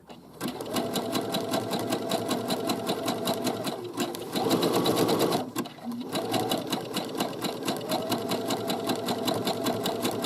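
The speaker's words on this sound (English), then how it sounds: "And I'm going to stitch along here." Sewing machine running zigzag stitches along a garment side seam with a pocket, a steady close mechanical whir that runs nearly the whole time, with a short louder, rougher burst midway and a brief pause.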